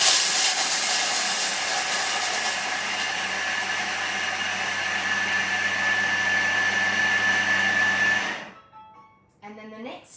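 A Thermomix runs at high speed grating chocolate, a loud steady whirring roar that cuts off abruptly after about eight seconds, leaving quiet blade clatter.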